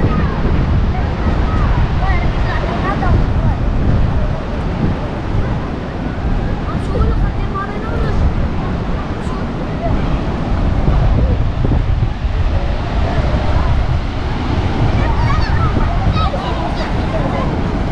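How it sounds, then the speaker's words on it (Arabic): Continuous surf washes in under heavy wind buffeting against the microphone, a broad steady roar of sea waves throughout, at the marina in Casablanca, Morocco, at sunset. "امواج البحر مع الغروب"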